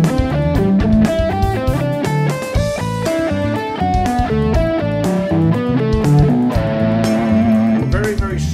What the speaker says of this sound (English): Now if we were to play this exercise in eighth notes,